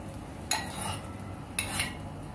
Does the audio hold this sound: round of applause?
no